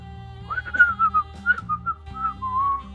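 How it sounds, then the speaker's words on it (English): A person whistling a short, wandering melody of sustained notes, clear and close, alone over a soft steady background. "Me just whistling, looking around"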